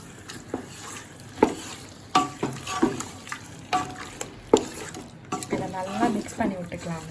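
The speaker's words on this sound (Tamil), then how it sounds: "நல்லா மிக்ஸ் பண்ணி விட்டுக்கலாங்க." Marinated chicken being stirred in hot oil with red chilli powder, a spoon scraping and knocking the pan in irregular strokes over a continuous sizzle, close by, with a voice murmuring briefly.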